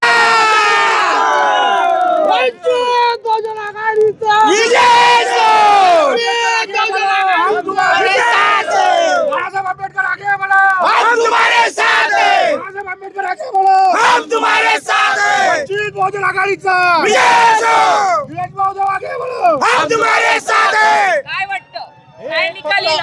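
An outdoor crowd celebrating a municipal election win shouts and chants in loud repeated bursts, voices swelling together with brief pauses between cheers.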